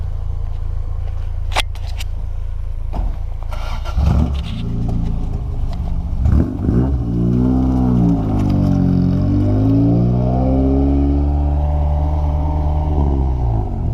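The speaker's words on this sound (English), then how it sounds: "And I'll film you moving your beautiful car." A Toyota AE86 drives close by, its engine revving up and falling back in repeated sweeping pulls over a steady road rumble, with no talking.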